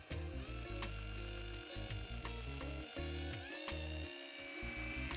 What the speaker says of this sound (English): I start by drilling out the rivet that holds the base onto the body.